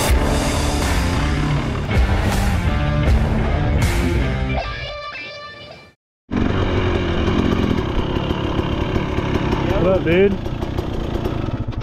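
Dirt bikes ride through hilly adobe terrain, with engine revs rising and falling loudly up close, a brief cut, then a steady buzzing engine as someone speaks over it.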